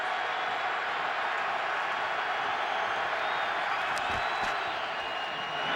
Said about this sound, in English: Great crowd here tonight to watch this Raiders football team